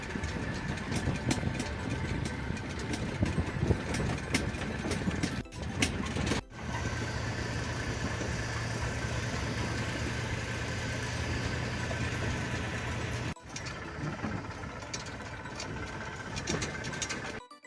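A mid-pitched tractor engine idles steadily nearby, with a couple of abrupt cuts and a low hum joining partway through; no talking.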